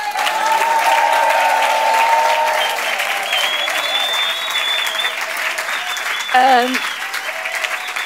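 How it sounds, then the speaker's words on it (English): A concert audience claps for a singer, a broad sustained wash of applause under which tonal voices and brief whistle-like sounds drift, with talking heard throughout. "Give her a big applause."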